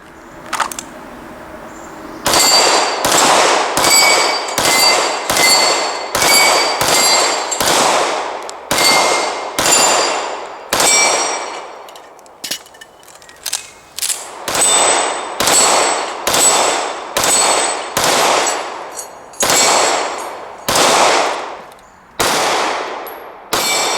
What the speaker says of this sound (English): Let's shoot some steel. Okay folks, we're about 10 yards from our steel plates. We're just going to work the plate rack.